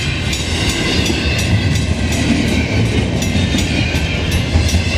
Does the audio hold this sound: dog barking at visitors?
no